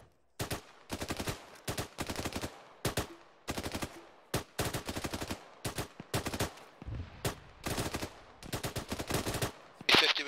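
Bursts of machine gun fire in the ARMA military simulation game, a steady run of loud, rapid volleys broken by short pauses over about ten seconds, with no talk.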